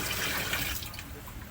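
Water runs into a washing machine that has a leak being repaired, a steady close rushing pour that eases slightly after the first moment and keeps flowing with no talking.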